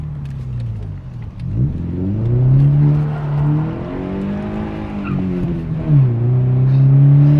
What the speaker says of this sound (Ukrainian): О боже, дізельний Тусан.